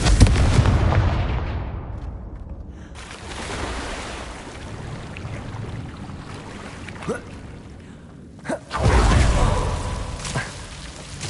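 A Confringo blasting-curse explosion in Hogwarts Legacy opens with a loud booming burst that rumbles and decays over several seconds, followed later by a second heavy thump and lingering low rumble.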